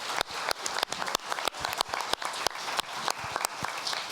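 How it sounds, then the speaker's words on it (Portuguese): Audience applause at a tribute event for an accordion music group, brisk scattered clapping that stays steady and fairly close throughout, with no voices over it. "Uma salva de palmas aqui, que bonito."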